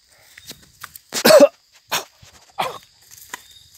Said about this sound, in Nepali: कुकुर पनि भुक्दैछ।